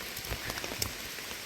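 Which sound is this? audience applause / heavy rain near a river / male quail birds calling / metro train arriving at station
heavy rain near a river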